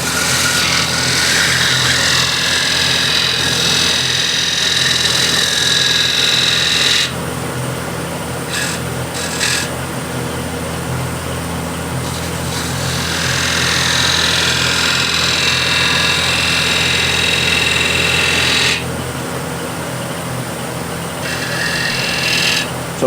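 A wood lathe turns a walnut or cherry plate while a gouge rides the bevel across a bead, giving a loud, steady scraping whir with rough cutting bursts that start and stop across the span.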